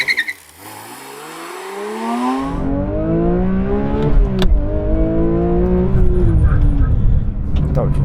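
A Porsche 911 GT3 Touring with a manual gearbox revs up, then launches hard from a standstill, its engine note climbing strongly through a long loud pull while a voice talks over it.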